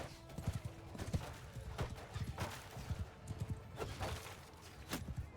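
Cavalry horses in the video game Mount & Blade 2 Bannerlord, hooves clip-clopping in a steady, overlapping rhythm, with a faint whinny, quiet throughout.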